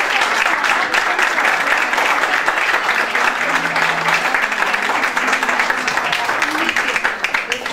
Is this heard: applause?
yes